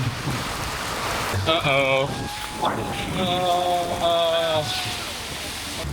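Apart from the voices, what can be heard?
heavy rain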